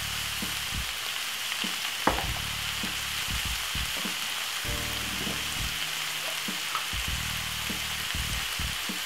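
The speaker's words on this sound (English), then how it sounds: "we're gonna fry up this for about 3 to 4 minutes" King prawns fry in a pan with a steady, dense sizzle, broken by occasional soft clatters and knocks of a utensil against the pan; no one speaks.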